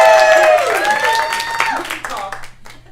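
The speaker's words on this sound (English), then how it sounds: "Yes, you can applaud." Audience at a Eurovision showcase breaks into brief applause under a loud voice and music, tapering off within a few seconds.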